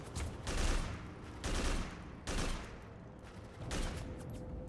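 Bursts of rapid gunfire in the video game Haze, arriving in several sustained volleys about a second apart, loud and close, with no talking over them.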